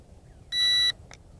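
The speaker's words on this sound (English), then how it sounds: "Turn this beeping noise off." A brushless GPS FPV drone gives a single sharp electronic beep after landing with its motors shut off, followed by a faint short chirp against a quiet background.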